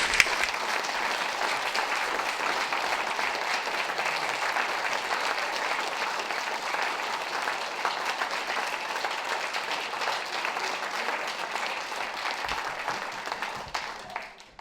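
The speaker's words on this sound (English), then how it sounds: "So another round of applause" Sustained audience applause at a Stanley Poverty Truth Commission community event, a dense even wash of many hands clapping that holds steady for the whole stretch and fades out only at the very end.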